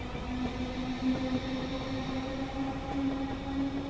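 A Class 319 electric train running between Milton Keynes Central and London Euston: a steady rumbling hum with a sustained electric whine, even and continuous throughout, no voices.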